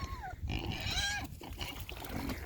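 Pigs grunt and squeal continuously, close by, with wet sloshing and splashing mixed in.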